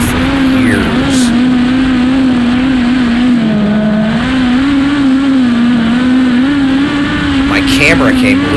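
Midget race cars race at the Sun Prairie local track, a loud steady engine drone held throughout at near-constant pitch, with slight wavering as the cars circulate together.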